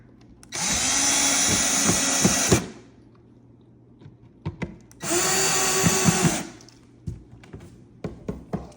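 A power drill drives screws while a nail desk is assembled, in two steady whirring bursts of about two seconds each, separated by quiet gaps with scattered taps and clunks of handling.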